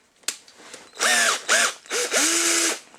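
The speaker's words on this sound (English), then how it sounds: "I'm just whacking back into the drill." A small power drill whirs in short spurts while wheels are swapped on a 1:64 scale Hot Wheels model car, three or four bursts with rising and falling pitch after a few light clicks.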